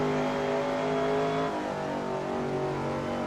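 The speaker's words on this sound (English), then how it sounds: "It does sound like a NASCAR stock car type sound. It is a big V8" A big V8 engine of a vintage sportscar in Assetto Corsa, racing at Spa Francorchamps, drones loud and steady with a sustained rumbling roar, then eases slightly in pitch as the car holds speed.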